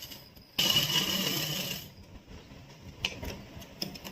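A sewing machine stitching the sleeve of a daily-wear kurti runs in one steady whirring burst of just over a second, close and clear, then stops, leaving quiet room noise with a few faint taps.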